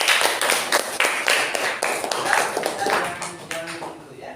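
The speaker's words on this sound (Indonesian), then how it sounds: "Ya, beri tepuk tangan." Classroom applause after a student's presentation during a teacher's practice lesson, with a burst of many hands clapping densely for about four seconds, mixed with some talk.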